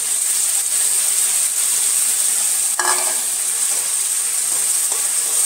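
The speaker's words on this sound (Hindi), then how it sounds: "अब इधर अंदर टमाटर डाल रहे हैं।" Tomatoes fry in browned onion paste for a bottle gourd kofta curry, giving a constant loud sizzling hiss with a brief clatter of stirring partway through.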